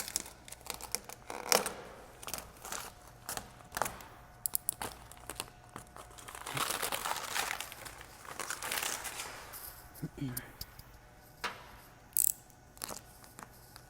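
Vinyl wrap film being cut and trimmed along a car fender's body line with a blade angled up away from the paint, giving faint scattered crinkles, scrapes and short tearing sounds, close and quiet with no talking.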